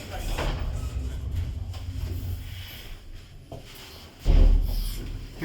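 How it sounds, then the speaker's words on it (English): Mitsubishi lift doors sliding and closing, a muffled rumbling slide followed by a heavier thud near the end, with a background hum and a voice speaking faintly. "Door closing."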